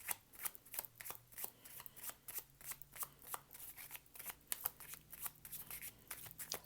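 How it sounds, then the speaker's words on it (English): A tarot card deck is shuffled by hand in a quiet room, a quick run of crisp riffling flicks and soft slaps repeating close to the microphone without speech. "feel like I should do one more shuffle"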